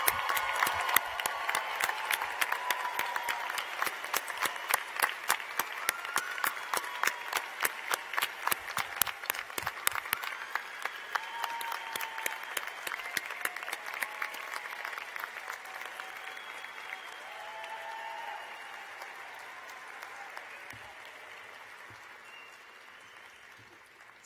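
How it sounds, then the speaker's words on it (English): A large crowd at a medical school graduation ceremony applauds the graduating class of 2023 with dense, sustained clapping that gradually thins and fades toward the end. "let's give a round of applause for the class of"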